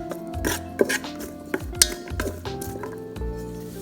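Shrimp fried rice cooks in a Ninja Foodi 10-in-1 while a utensil stirs it, giving scattered metallic clinks and scrapes against the pot over a low background, with no talking.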